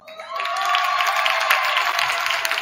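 An audience at a school sports event for boys' varsity volleyball breaks into applause for the coaches, a steady wash of clapping that swells quickly and holds at a moderate level.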